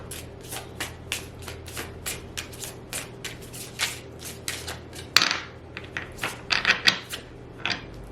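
A deck of Messages of Love oracle cards is shuffled by hand up close, giving a string of crisp riffling slaps in an irregular rhythm, with sharper clattering card sounds toward the end.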